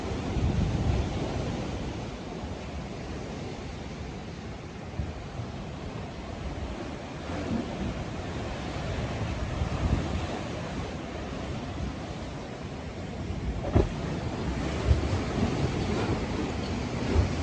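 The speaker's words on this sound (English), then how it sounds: "Like those crashing waves going into this thing here." Ocean waves crash against rocks on a beach along the Pacific Coast Highway near Santa Cruz, a steady rolling roar with wind buffeting the microphone and no voices.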